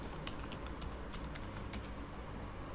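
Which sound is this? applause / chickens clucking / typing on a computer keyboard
typing on a computer keyboard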